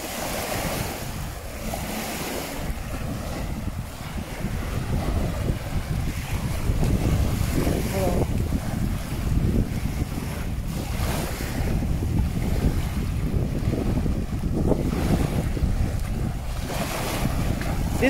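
Surf breaks continuously on the sandy shore of Avşa island, a loud rolling wash of waves with repeated surges, mixed with gusty wind buffeting the microphone throughout.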